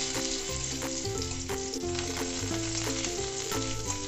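Garlic and dried red chilli fry in hot oil in a pan, a loud, continuous close sizzle with a steady crackle throughout and background music underneath.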